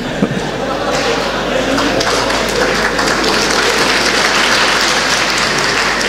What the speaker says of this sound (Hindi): अब देखिए चोर के नाम पर लोग ताली बजा रहे हैं